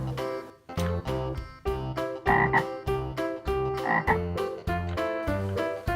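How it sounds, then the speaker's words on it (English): A green frog croaking in a fast, regular series of loud, deep, throaty calls that repeat about twice a second, close and prominent with no talk. "Green frog."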